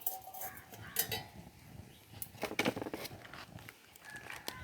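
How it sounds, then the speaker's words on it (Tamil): A metal cooking pan is set onto a kitchen stove with a few clanks and clinks, followed by lighter scraping and rattling handling sounds at close range. "இப்போ வந்து நம்ம இதில் சட்டியை வச்சிடலாம்."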